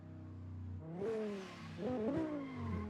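A BMW drifting at a drift competition at Sportsland Sugo, its engine rising in pitch as it revs hard, with the note swooping and wavering through the slide, loud and close.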